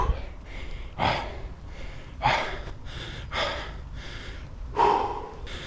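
Heavy, labored breathing after a running interval in half-marathon training, with five loud, sharp gasping inhales and puffing exhales spaced about a second apart, close and alone with no talking.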